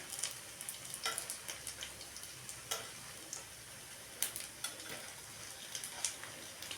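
Chilli omelette pieces frying in oil give a faint, steady sizzle, broken by occasional light ticks and clinks of a utensil against the pan.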